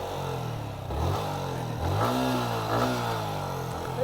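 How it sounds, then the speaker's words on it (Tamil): A motorcycle engine is throttled repeatedly by local youths, revving up and falling back in several surges over a steady idle, close by and fairly loud. "நம்ம வண்டியை பார்த்தீங்கன்னா த்ராட்டில் பண்ணி பார்த்துட்டு இருக்காங்க இந்த ஏரியா காய்ஸ்லாம்"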